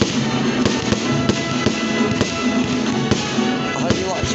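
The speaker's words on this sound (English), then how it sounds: "this is dynamite firework display now" Fireworks display in a park in Woking, UK, 2023: repeated sharp bangs and crackles over a constant rumble, fairly loud, with people talking and cheering in the crowd.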